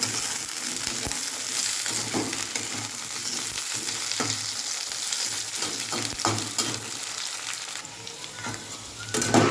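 Potatoes fry in a pan with a steady, close sizzle, broken by frequent scraping and clinking as they are stirred.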